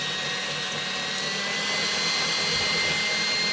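Electric hand mixer beating egg whites for chocolate macarons, running steadily at a higher speed with a continuous whirring hum that holds without pause.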